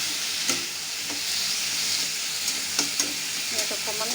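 Turmeric and salt being stirred in a frying pan, with a steady close sizzle throughout and a few soft scraping stirs of the spatula against the pan.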